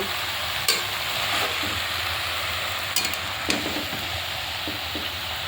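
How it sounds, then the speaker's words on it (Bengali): Malabar spinach greens stir-fried in a pan, a continuous bright sizzle with scattered soft scrapes and taps from stirring, steady and close. "আমি ভালো করে শাকটা একটু নেড়ে চেড়ে ভেজে নেব"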